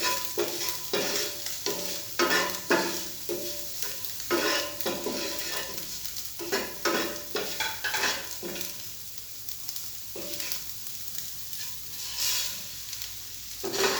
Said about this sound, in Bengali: কাঁচামরিচ কুচি দেওয়া হলো, একটু নেড়ে নিয়ে